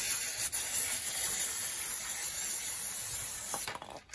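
Compressed air blows wheel bolts clean during a Landcruiser front wheel bearing service, a continuous close hiss with slight fluctuations and a brief sharper burst near the end.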